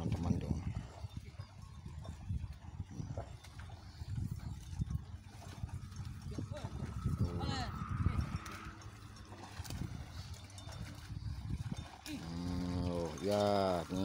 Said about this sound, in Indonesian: Lo lihat ini bajakannya tarikannya pakai kerbau nih.